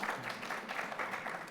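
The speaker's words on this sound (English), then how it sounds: "They're clapping for you." Faint, distant audience applause at a wellness panel event, a continuous patter of many hands with no voices over it.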